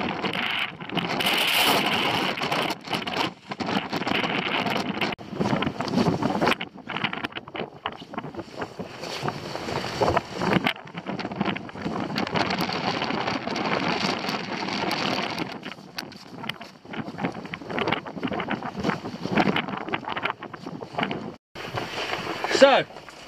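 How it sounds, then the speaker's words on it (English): Strong coastal wind gusts during a storm, roaring and buffeting close against the microphone in a constant rough wash with surges, while a person talks over it. "The wind is really picking up now."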